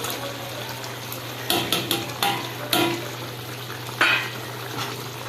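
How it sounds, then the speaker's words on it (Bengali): Small khoira fish go into a pan of fried lentil dumplings, cooked with eggplant, setting off a steady sizzle broken by a few sharp knocks and stirring clatters, with no voices. "এবার আমি মাছগুলো সব দিয়ে দেবো"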